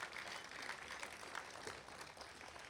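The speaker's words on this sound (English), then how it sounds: "Let's have a nice round of applause for Tom," A crowd at an athletic Hall of Fame induction ceremony applauds an inductee with even, continuous clapping that sounds faint and distant.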